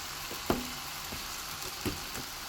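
Cheeseburger patties sizzle steadily on a barbecue grill, a soft even hiss broken by a couple of faint taps and scrapes.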